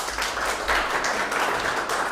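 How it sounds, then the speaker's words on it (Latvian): Audience applause greeting a storyteller as she takes her seat, steady and fairly loud, a continuous wash of clapping with no voices over it. "ar aplausiem."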